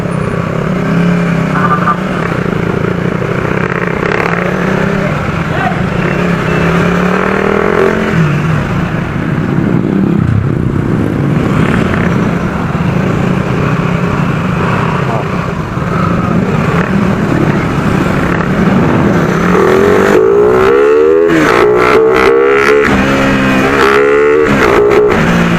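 Motorcycle engine droning and revving hard while stuck, a loud continuous roar that surges near the end, with voices talking over it.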